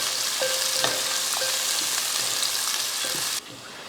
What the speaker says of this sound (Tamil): ரெண்டு வெங்காயம் அடுத்து பச்சை மிளகாய் ஒரு ரெண்டு சேர்த்துக்கலாம் சேர்த்துட்டு நல்லா பொன்னிறமாக வதக்கிடுவோம்